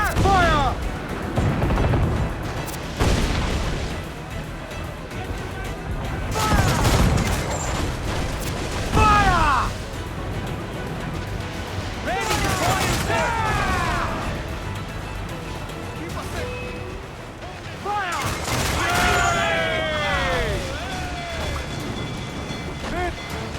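Cannon fire from ships in Assassin's Creed 4 Black Flag: heavy booming blasts in irregular clusters, some close together and some spaced apart, over a continuous rumbling battle backdrop with shouting voices in between.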